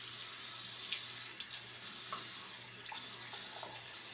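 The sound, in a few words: rinsing doll hair under cold sink tap water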